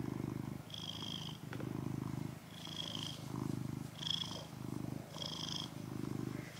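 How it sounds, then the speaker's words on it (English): A cat purrs up close in a loud, steady rhythm, each rumbling breath cycle repeating about every second and a half, with no talk over it. "I hope that you like the sound of a purring Kit Kat, because he's not moving"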